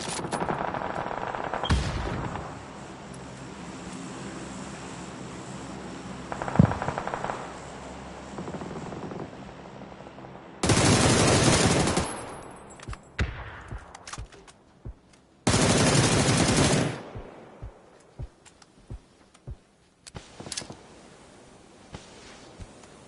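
Gunfire rings out in PUBG from a rooftop position, sharp shots and rapid bursts scattered across the scene, with two long, loud sustained volleys in the middle and isolated cracks toward the end, no talking.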